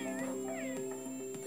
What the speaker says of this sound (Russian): Вот так, он мяукает.